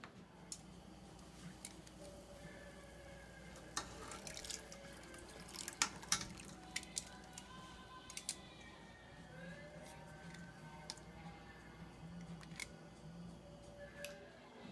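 Wort dripping from a bag of spent grains during homebrewing, scattered small irregular drips and ticks at low level over a quiet background hum, with no talk.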